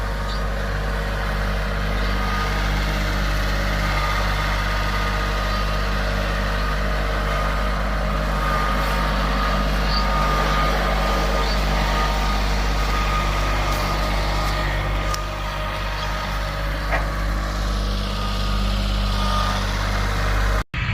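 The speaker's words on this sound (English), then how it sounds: "All right, here's another dump truck load delivered." Dump truck engine idling at a steady low rumble for a long stretch while delivering a load of dirt, close and loud with no talk. Reversing beeps cannot be confirmed.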